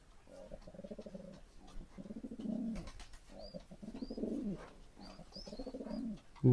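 A pigeon coos in repeated soft, throaty phrases close by, with a few faint chirps between calls and no talk over it.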